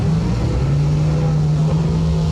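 Loud drag racing car engine at a track event, a sustained, heavy droning roar with a steady low pitch that fills the whole stretch without a break.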